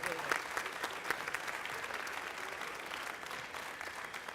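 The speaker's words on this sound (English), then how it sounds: "I think that deserves some more of applause" A school speech-competition audience applauds steadily for the middle school speakers who just performed on stage, a dense, even patter of many hands filling the hall with no voices standing out.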